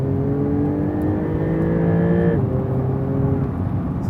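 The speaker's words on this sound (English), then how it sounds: "so you get a lot of intake roar" A sports car engine's intake roar, a loud steady drone that holds, then dips in pitch partway through before settling into a lower, continuous growl.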